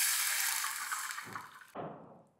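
Water pours into a pan for tamarind kadhi over a tempering, a loud rushing splash that stops abruptly and leaves a short, softer bubbling tail, with no one talking.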